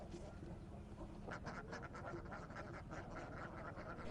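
Ducks on a duck farm quack in a dense, overlapping chorus, fairly faint and distant over a steady background hum.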